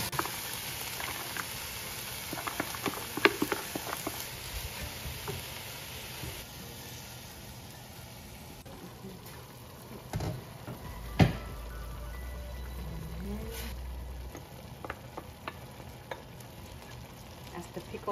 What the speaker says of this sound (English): Saute the onions until it's, and the mushroom until it's all wilted.